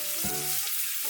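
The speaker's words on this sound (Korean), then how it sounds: "마늘을 기름에 튀기듯이 익혀주세요." Garlic frying in olive oil in a tilted pan for spinach pasta made with ramen, a steady close sizzle with a brief stir or clink near the start.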